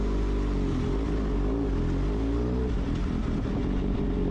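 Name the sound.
motorcycle engine revving in a video game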